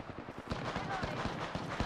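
Gunfire in the battle royale shooter Apex Legends, a scattered run of sharp game shots popping every few tenths of a second at moderate loudness, mixed with faint background game noise.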